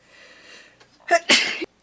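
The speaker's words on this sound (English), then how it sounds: "Sorry, I'm gonna sneeze." A faint voice trails off, then one sharp, close sneeze with a quick intake before it.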